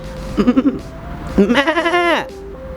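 A voice imitates a goat bleating, giving two wavering, quavering bleats, loud and close, the second one longer and falling at the end.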